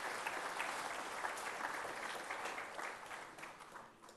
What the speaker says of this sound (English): please give the team led by the Chief Minister a big round of applause